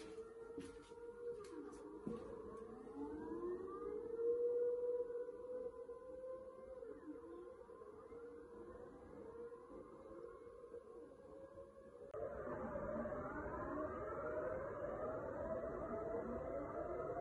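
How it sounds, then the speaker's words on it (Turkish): The monthly civil defense siren test in the Netherlands wails at noon, its rising and falling tone carrying from a distance. The siren keeps going and swells louder toward the end. "Her yeni ayın ilk pazartesi günü Hollanda'da bir siren çalıyor."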